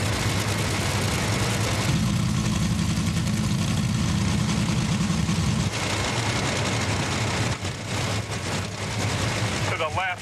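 Top fuel dragsters making 32,000 horsepower total, about 1,000 per cylinder, roaring in a loud continuous thunder at a four-wide drag racing event, with a deeper surge midway and a commentator talking over the noise.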